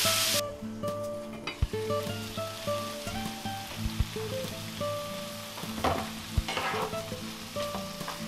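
Butternut squash frying over high heat in a pan, a continuous close sizzle and crackle with occasional stirring scrapes and utensil knocks, no voices.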